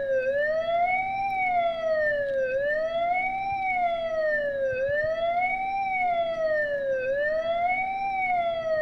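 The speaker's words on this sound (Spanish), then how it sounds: "con esta sirena que eriza la piel, que pone los pelos de punta" An emergency siren sounded at 8:32 to commemorate the Once train tragedy wails in a loud, steady rise-and-fall cycle roughly every two seconds, continuous and alone with no talking.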